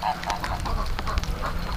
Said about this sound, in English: Look at the ducks.